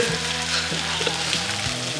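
Oil sizzles and crackles steadily under frying chive pancake batter, a close, continuous hiss with a low hum beneath it.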